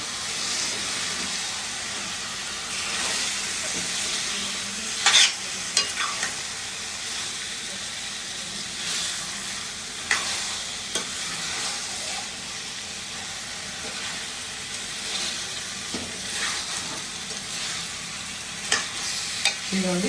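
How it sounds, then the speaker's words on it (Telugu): Chicken fries in a pan with ginger garlic paste, a continuous hissing sizzle broken by repeated scraping and clinking as it is stirred, with several louder knocks of the utensil. "ఇప్పుడైతే మనం ఈ చికెన్ వేసేసుకున్నాము ఒకసారి అయితే కలిపేసుకున్నాము"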